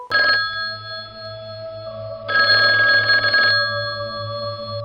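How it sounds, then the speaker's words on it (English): An incoming call on a telephone, ringing in two electronic bursts: a short one at the start, then a longer trill after a pause, over a low steady hum. "it's our friend Brad calling."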